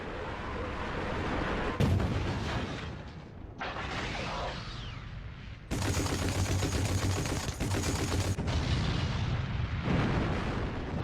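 Russian rocket launchers and gunfire in World War II battle footage: loud booming blasts and rapid bursts of firing crowd together, with short lulls between dense, roaring barrages.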